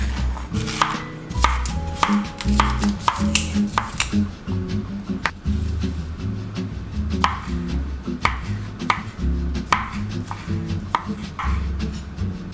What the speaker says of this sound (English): So I just chopped a celery stick, an apple and some grapes in small pieces ready for my salad